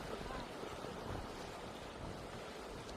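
Strong wind blows steadily across the microphone at the seaside during a fishing trip, a constant broadband rush with faint surf and water beneath it and no clear speech.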